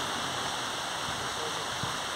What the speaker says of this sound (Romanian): Ceea ce auziți voi pe fundal este ploaia, da.